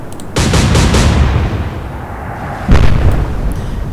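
Naval guns boom in the Atlantic Fleet warship game: one loud blast opens, its rumble rolls on, and a second heavy report follows a few seconds later, with no voices.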